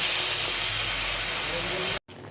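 Water poured into a hot pan of fried eggplant with green chilli and Kashmiri chilli powder in a Bengali fish curry, a loud close steady hiss of sizzling steam that cuts off abruptly near the end.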